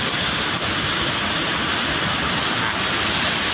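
Steady rain pours down in a dense, continuous hiss, loud and close, with no other sounds standing out.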